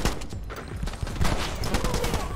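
Rapid gunfire crackles in a first-person shooter game, a dense burst of overlapping close shots filling the whole moment with little pause.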